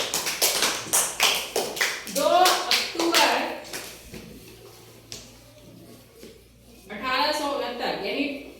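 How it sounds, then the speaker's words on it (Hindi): A class of schoolchildren claps in quick bursts of tapping, interleaved with a teacher and students speaking in Hindi. "तालियां।"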